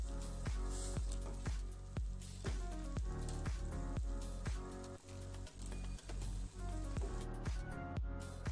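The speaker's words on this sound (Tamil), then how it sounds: "இப்போ இதெல்லாம் நல்லா மிக்ஸ் பண்ணிடுங்க." Someone stirs a pot of tamarind-free drumstick-leaf (murungai keerai) kulambu with a ladle. Steady wet squelches and knocks repeat about fifteen times, close and fairly loud, with no voice over them.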